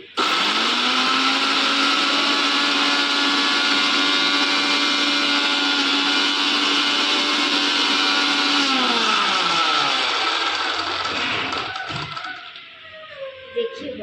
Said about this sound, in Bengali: পুরোটাকে এবার আমি ব্লেন্ড করব।